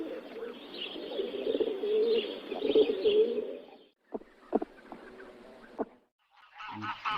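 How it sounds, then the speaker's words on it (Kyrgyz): A flock of pigeons coos in a steady low, murmuring mass for about four seconds, followed by a few softer scattered calls and a brief different bird call near the end. "Көгүчкөнгө көңүл бурабыз."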